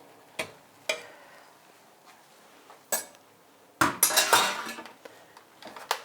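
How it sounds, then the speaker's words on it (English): Cream being whisked in a bowl, with sharp clinks of the whisk against the dish, first spaced out and then a quick busy run of scraping taps, close and clear with no talking. "And I whisk it to a thicker consistency."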